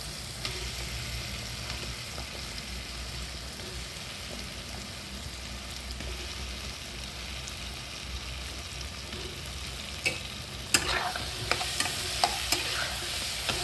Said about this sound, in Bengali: এবার আলুগুলো দিয়ে কষবো।